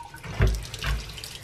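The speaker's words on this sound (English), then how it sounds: "So I am filling up this giant bucket with water" Tap water runs from a faucet into a giant bucket at a sink, a steady splashing gush with a couple of louder surges, close by.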